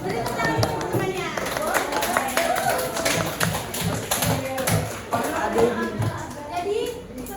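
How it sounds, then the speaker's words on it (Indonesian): Schoolchildren in a classroom clap for a classmate, a lively round of many quick, overlapping claps lasting several seconds, mixed with children's chatter. "beri tepuk tangan untuk temannya."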